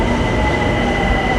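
Bangkok metro train at a station: loud, steady rolling rumble with faint wheel squeal and high tonal whine, close and continuous, no voices.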